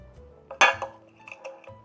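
A spoon mixing pie crust dough in a bowl, giving one sharp clink against the side followed by a few softer scrapes and taps, close and quiet.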